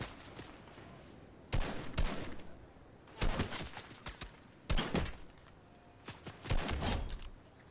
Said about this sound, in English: Who is taking pop shots at me?